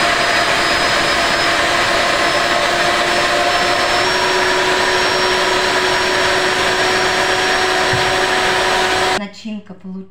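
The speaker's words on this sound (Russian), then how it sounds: "Печень подостыла, пропускаю через мясорубку." A meat grinder mincing cooked chicken liver for a dumpling filling runs as a loud, steady motor whine with a droning hum, close by, cutting off near the end.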